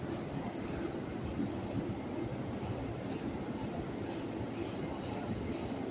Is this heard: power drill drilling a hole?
no